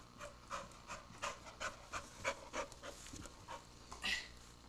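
A dog pants rhythmically in a hallway, quick regular breaths about twice a second, close but fairly soft, with a brief higher squeak near the end.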